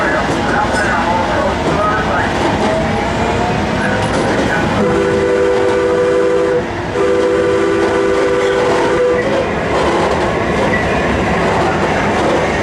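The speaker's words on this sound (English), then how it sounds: "There's another train right there." A loud train rumbles past nearby, its horn sounding two long blasts midway through, with steady rail noise throughout.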